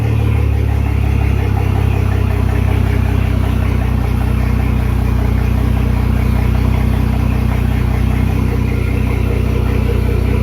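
A boat engine idles steadily just after starting, a loud, close, continuous low rumble with constant vibration and no change in pace.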